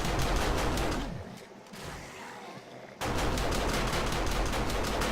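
Automatic turrets in 7 Days to Die fire rapid bursts at zombies, loud continuous gunfire that drops away briefly mid-clip and then resumes at full intensity.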